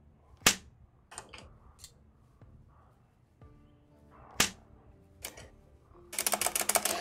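Gunfire in the zombie survival game Project Zomboid: a few sharp isolated shots spaced seconds apart, with clicks in between, ending in a rapid burst of crackling reports.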